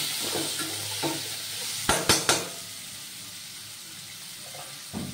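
Raw vegetables with salt stirred and fried in a pan for a vegetarian biryani: a steady sizzle runs throughout, broken by three sharp scraping stirs in quick succession near the middle and a final scrape at the end.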